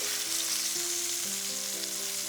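Pork chops sizzle steadily in a hot cast iron pan, a close, dense hiss that holds an even level throughout with no voices over it.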